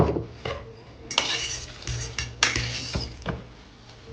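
Pasta with freshly chopped sage stirred in a pan in a home kitchen, a spoon scraping and clinking against the metal in several uneven strokes, close and fairly quiet with no talk.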